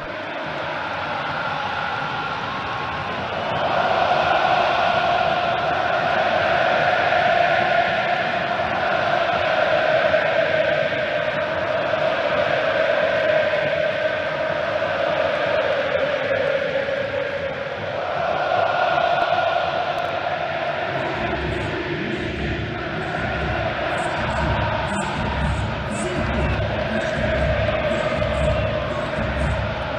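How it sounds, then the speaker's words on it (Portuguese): São Paulo supporters singing in unison at the packed Morumbi stadium before a Libertadores match, a broad sustained crowd chant with rhythmic drumming joining later, heard under a radio commentator's voice. "Canta a torcida tricolor!"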